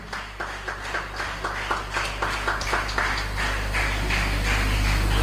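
An audience claps at a school old girls' gathering, starting as a steady rhythmic beat of fairly distinct claps and then thickening into denser, continuous applause, with a low electrical hum underneath.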